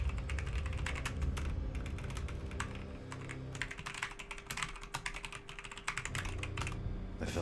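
A computer keyboard clatters with rapid, uneven keystrokes typed in bursts, close and fairly loud over a low background hum.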